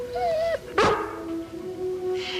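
A single short dog bark or yip sounds once near the middle, clear and close, with a steady tonal hum and a brief whine-like sound beforehand in an indoor setting of the 1950s.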